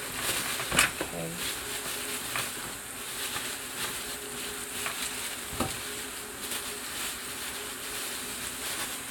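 Seafood gumbo ingredients cook in a pan with a steady soft sizzle and hiss, broken by a few light clinks and scrapes of stirring, fairly close and continuous.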